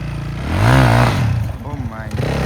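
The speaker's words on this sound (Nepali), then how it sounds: "one and only 2 stroke bike" A two-stroke enduro motorbike at a Pokhara enduro race track revs up close, its pitch climbing and falling in loud, buzzy surges before dropping to a rougher, choppier idle.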